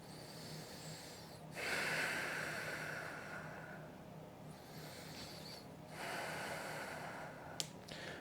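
Slow, deep breaths of a person holding downward dog during a yoga class, quiet and close: a long inhale-exhale, a pause, then another long breath, with a faint click near the end.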